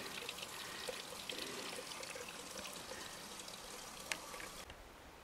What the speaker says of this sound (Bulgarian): Чешмата в село Повет.